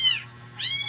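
A mother cat gives two close, clear meows a moment apart, the second rising, over a faint low hum.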